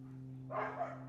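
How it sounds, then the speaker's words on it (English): An Australian Shepherd on a rural ten-acre property lets out a single short, faint bark over a steady low electrical hum. "I'm going to stop the video because you don't want to hear him barking for 24/7."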